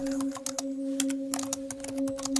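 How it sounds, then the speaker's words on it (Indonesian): Typing on a laptop keyboard: quick, light key clicks in irregular bursts over a steady electrical hum, close and fairly quiet. "aku pun mulai mengetik"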